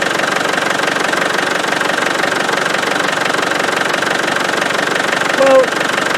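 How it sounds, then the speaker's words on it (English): A Land Rover 300Tdi diesel engine with a suspected fuel lift pump problem idles nearby with a loud, continuous knocking clatter, and a brief voice cuts in near the end. "So let's stop the engine."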